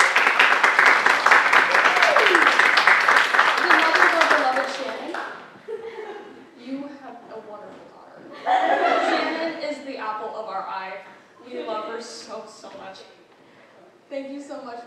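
Loud applause from a theatre awards ceremony audience fills the room, then thins into scattered clapping, chuckles and chatter, with a second burst of clapping partway through.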